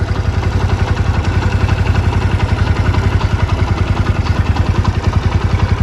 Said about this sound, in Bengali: দেখেন ইঞ্জিনের কত সুন্দর গুড সাউন্ড